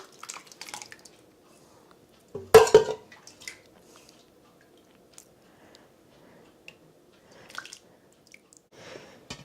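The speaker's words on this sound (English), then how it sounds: "I'm going to put this over into the serving bowl" Hearty old-fashioned hamburger soup is ladled from a pot into a serving bowl, giving a short, close wet slosh and splash about a third of the way in, with faint drips and light clinks of dishware around it.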